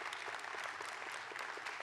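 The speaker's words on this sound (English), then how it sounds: "please give our principals a round of applause" Audience at a school district awards evening applauding its principals, a dense continuous wash of clapping from many hands, heard at moderate distance and fairly quiet, with no one speaking over it.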